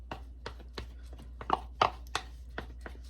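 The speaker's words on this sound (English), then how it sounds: "And let's add our butter and mix. Our melted butter, that is." Cookie bar batter being mixed with melted butter in a bowl, a series of regular soft thumps and scrapes from the utensil, about one every third of a second, close and moderately loud with no talking.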